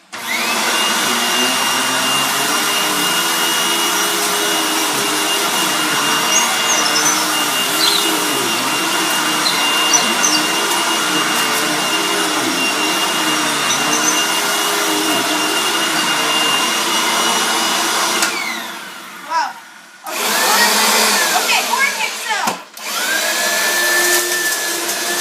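A vacuum cleaner runs loud and steady at close range with a constant motor whine, briefly dropping out and restarting near the end.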